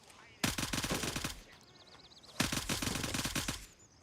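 An automatic rifle in the Gray Zone Warfare video game empties its magazine in two long, rapid bursts of loud, close gunfire, with a short quiet pause between them.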